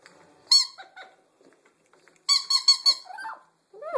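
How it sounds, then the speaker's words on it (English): A squeaker toy hung on a homemade wooden bird playstand, squeezed by a pet parrot, gives sharp high squeaks in short bursts separated by silence, with a cluster of rapid squeaks near the end; no one talks. "So you got the squeaker here."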